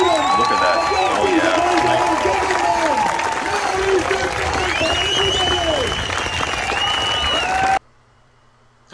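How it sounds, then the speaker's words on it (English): A large rally crowd in Canada chanting and yelling at Justin Trudeau, a dense, continuous roar of many voices with rising and falling shouts, loud and steady for most of the stretch before cutting off abruptly near the end. "the videos that we're seeing of, they're at the Trudeau rally, and of course everyone's chanting and yelling at him"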